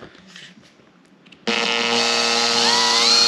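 A power drill bores holes for an ATV light bar install: a quiet pause, then an abrupt, loud, steady motor whine that holds to the end, with its pitch creeping slightly upward.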